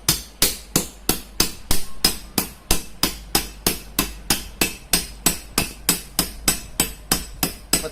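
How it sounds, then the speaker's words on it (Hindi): Stabilizer transformer core laminations struck with a hammer in a steady, even rhythm of about three blows per second, each a sharp metallic knock with a short ring, close and loud, no talking. "पत्तियों पे चोट बराबर लगनी चाहिए दोनों किनारों पे"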